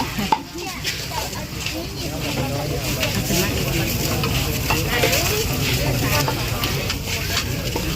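Thai lotus flower pastries (khanom dok bua) deep-frying at a market stall, a steady broad sizzle of hot oil running throughout with occasional stirring clatter, voices talking faintly in the background.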